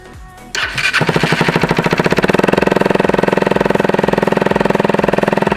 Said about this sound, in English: So this is how the bike sounds with the silencer in, basically.